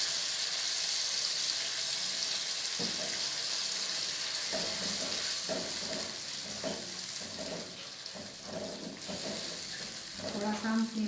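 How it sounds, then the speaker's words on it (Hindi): Chopped onions with ginger garlic paste frying in a pan for a Patiala chicken dish. A steady close sizzle carries on throughout, broken by scraping stirs from a spoon. "देखें, प्याज को भूनते हुए तकरीबन 2-3 मिनट हो गए।"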